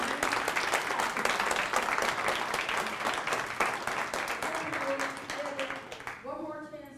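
A round of applause from an audience after a talk on next-generation cybersecurity: a steady wash of many hands clapping, which thins out near the end while voices begin talking over it.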